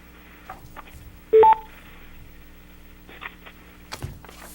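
A brief pair of loud telephone keypad tones sounds during a remote board meeting call, with soft clicks and faint background noise around them.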